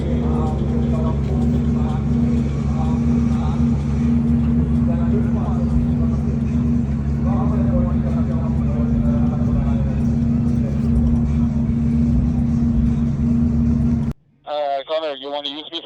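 A drift car at full throttle at the Drift Masters round in Ferropolis, Germany, a loud, sustained engine roar holding steady with strong low harmonics. An announcer talks over it, and the roar cuts off abruptly near the end.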